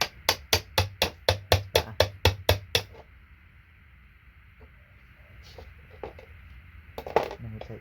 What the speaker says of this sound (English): I'll use this fat chisel, it's quicker.